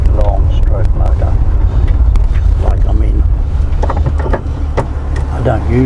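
A big long-stroke engine runs steadily, a loud continuous low drone with wind noise over it, while people talk over the motor throughout.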